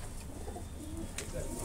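Pigeons coo in a large loft of big white and mixed-breed birds, a steady low murmur of soft overlapping coos under constant background noise.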